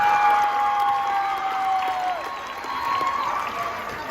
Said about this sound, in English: Everybody, please give your girls basketball team one last round of applause